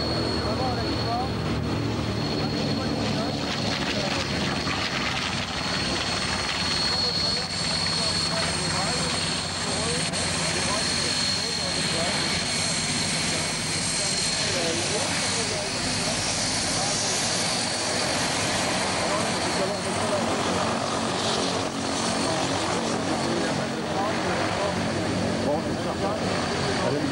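Inside a noisy military aircraft at Cambrai air base 103, a loud, constant engine drone fills the space throughout, with a person talking over it.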